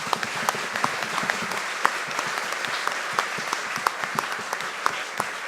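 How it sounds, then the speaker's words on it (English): An audience at a live drawing comedy show bursts into applause, a steady even patter of many hands with scattered sharper claps, sustained throughout. "why don't we give a huge round of applause to the very wonderful Graham Jury"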